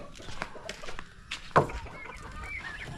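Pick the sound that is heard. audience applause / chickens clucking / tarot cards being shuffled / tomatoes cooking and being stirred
chickens clucking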